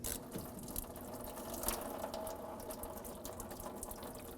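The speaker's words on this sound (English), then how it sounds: "break this free, unthread it, and let the coolant drain" Coolant pours from the radiator drain plug of a 2009-2010 Dodge Ram 1500 5.7L V8 into a collection pan, a steady close splashing trickle with no voices.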